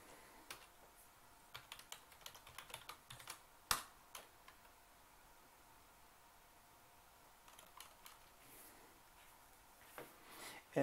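Keys tapped on a computer keyboard while entering an administrative password during a Debian Linux install, a quiet scatter of clicks in short bursts with pauses between them.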